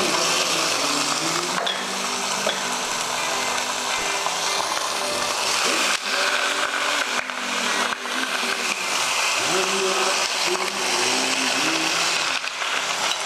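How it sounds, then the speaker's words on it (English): Four pork chops brown in a hot pan for a celery pork chop dish, giving a continuous, fairly loud, crackling sizzle that flickers and pops near the mic without pause. "now I'm gonna put these chops in"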